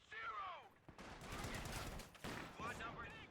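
Video game gunfire barrage from light machine guns, a dense continuous burst of rapid shots, loud and close, framed by brief whooshing effects at the start and end.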